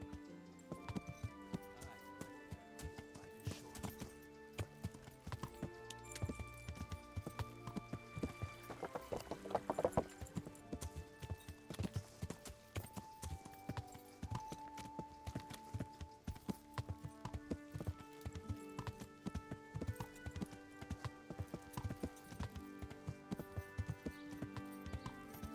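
Horse hooves clip-clopping in the medieval video game Kingdom Come: Deliverance, a steady rhythmic trot running throughout under a layer of tonal game music, with a brief louder flurry of hoof and rattling noise near the middle.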